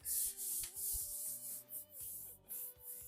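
Sanding a Volkswagen body panel during restoration bodywork, with close, loud rhythmic rubbing strokes in repeated pulses of roughly even length; no voices.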